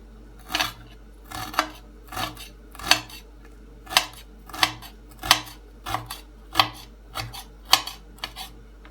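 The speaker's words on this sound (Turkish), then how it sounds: "Şimdi bunları da patateslerimiz kızarana kadar içine doğrayalım. İncecik incecik kıyalım." A knife taps rapidly against a cutting board, finely chopping herbs in a steady series of sharp, close chops, about one to two per second, with no voices.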